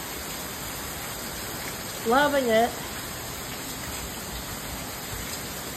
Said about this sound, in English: It's been raining, I guess, a while.